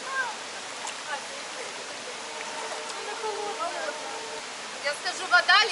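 Dudhsagar waterfall in Goa, India: a steady, faint broadband rush of falling water heard from a distance, with people's voices and a few brief, sharper sounds rising over it near the end.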